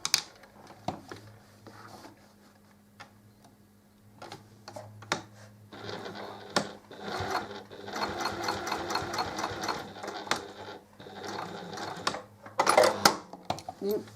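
A sewing machine stitches a fabric dish, running in bursts with pauses as the fabric is turned and reverse stitches are made at the corners, close and fairly loud, with a rhythmic mechanical clatter.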